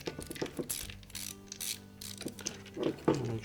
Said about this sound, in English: Now tighten that ground screw securely.